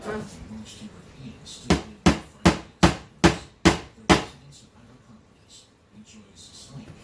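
Seven evenly spaced blows from a small hammer ring out in a steady rhythm while beadboard is fitted in a kitchen, close and loud, with faint talking before and after.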